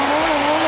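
A turbocharged car engine lets out a loud, steady, high turbo whine over a droning engine note in a brief, close burst, with no one speaking.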